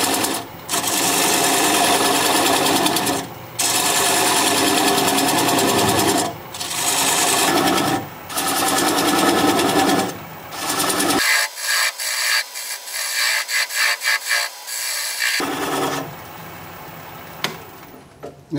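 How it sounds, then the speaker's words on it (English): A 3/8 inch bowl gouge cuts a tenon off wood turning on a lathe at about 600 RPM. The dense, continuous cutting noise comes in bursts with brief pauses, loud and close. It drops to a thinner, higher scrape partway through before the heavier cutting returns. "I'm going to grab a 3/8 inch bowl gouge and commence to removing that tenon."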